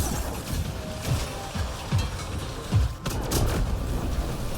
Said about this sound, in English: That was a lot of explosions on that Blaze Hydra just then